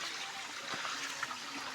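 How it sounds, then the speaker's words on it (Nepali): A large waterfall roars as a steady, broadband rush of falling water, close and continuous throughout the short moment, with no voices. "यो चाहिँ झरना है कत्रो ठुलो झरना रहेछ"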